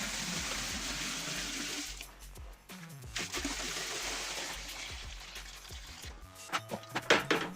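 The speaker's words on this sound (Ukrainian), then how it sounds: "зараз наліємо води і побачимо, чи він тут качає, як він справляється" Water is poured into a house basement to test a drainage pump, a continuous rushing pour that briefly pauses and resumes, ending with a few knocks and splashes.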